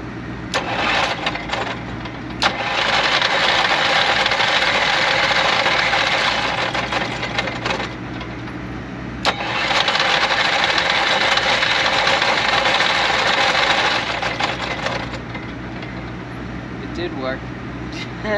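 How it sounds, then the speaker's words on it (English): A generator engine on a band's tour is pulled to start and runs in two loud, steady sustained stretches with a sputtering gap between, and people talk around it. "but we did fix the generator"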